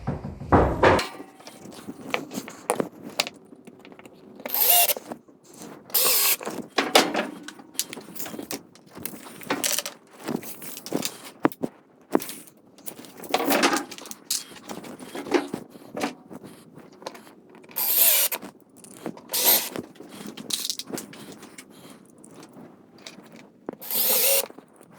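In a woodshop, a power drill drives screws to fix an LED light box in place, giving repeated short, loud whirring bursts with ratcheting clicks and handling knocks between them, close by.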